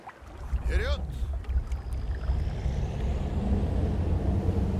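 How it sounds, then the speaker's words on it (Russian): Motorboat in the video game Cyberpunk 2077, a steady, loud, low engine rumble with water wash that runs throughout, with a brief voice-like sound near the start. "это катер"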